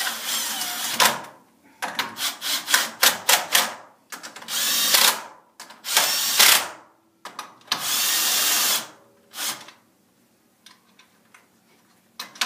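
A power tool drives bolts into an XP primary clutch in a series of short, loud whirring bursts of varying length, separated by quiet gaps and ticking clicks, with no voices.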